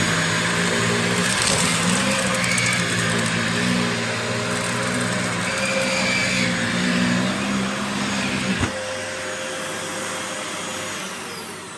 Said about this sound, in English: if you take it off the max mode, it will apparently vibrate the debris better.